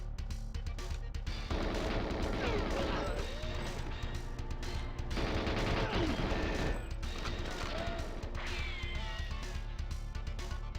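Gunshots and explosions in GoldenEye 007 on the Nintendo 64: sharp shots and crashing blasts over continuous game music, filling about eleven seconds at a steady level.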